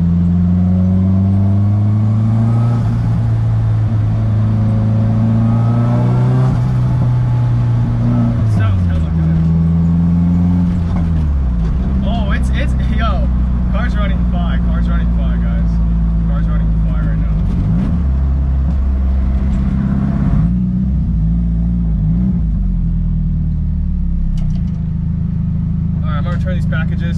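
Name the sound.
car accelerating in a pull with turbo flutter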